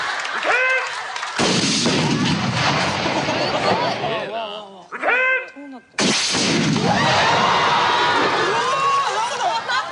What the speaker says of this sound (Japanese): ロケットランチャーの弾にボールをくっつけたらどうなるの